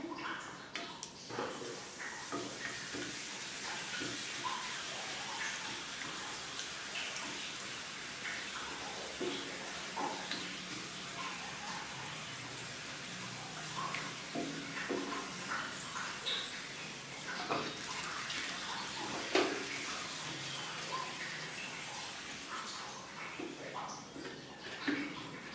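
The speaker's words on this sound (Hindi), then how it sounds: "तेल गर्म हो गया है, आइए हम पापड़ डालते हैं।" Papad frying in hot oil in a home kitchen, a soft continuous sizzle and crackle with scattered pops, steady and moderately faint, lasting throughout while someone talks intermittently over it.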